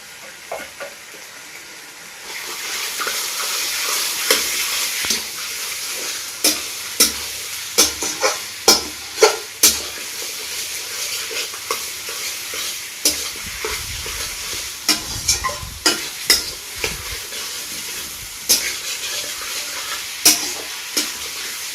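Desi village chicken pieces frying with onions in a pan, a steady sizzle broken by repeated scraping stirs, close and fairly loud, with no one talking.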